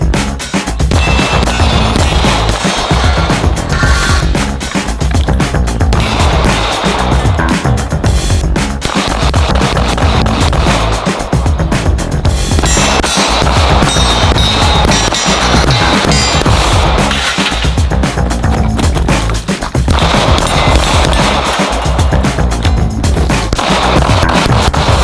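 Rapid volleys of Glock 19 pistol shots ring out loud and close on a competition course of six steel targets and an IPSC target, with dense bursts of cracks and metallic clangs running almost continuously.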